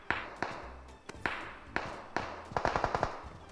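Gunfire in a shooter video game aimed at an enemy hiding behind a tree, sparse single shots spaced out at first, then a quicker cluster of cracks near the end, fairly quiet overall.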